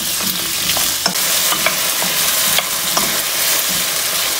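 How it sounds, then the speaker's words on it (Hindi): Potatoes frying in oil in a pan give a loud, steady sizzle with scattered crackles and light utensil taps, and no voices. "अब उसी पैन के अंदर उसी ऑयल में मैं पोटैटोस फ्राई करने लगी हूँ।"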